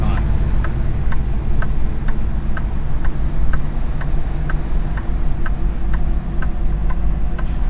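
A truck's hazard lights tick steadily, about a dozen evenly spaced clicks, heard inside the cab over a loud, constant engine and road drone.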